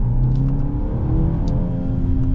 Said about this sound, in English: just giving a little bit of an acceleration, this thing starts to pull